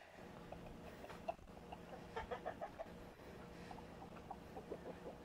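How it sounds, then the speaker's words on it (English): A rooster clucks in a series of short, soft, rhythmic calls heard at a distance and faintly, over a low steady background hum outdoors. "Flaunt that stuff, Mr. Rooster."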